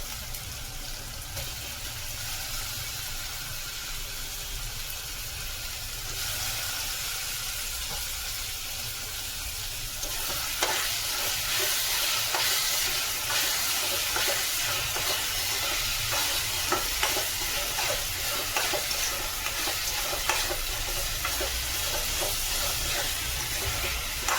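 Spicy chicken keema with tomatoes sizzles and frys in a pan while being stirred, a steady crackle that grows louder and busier partway through, with scraping stirs and no talk.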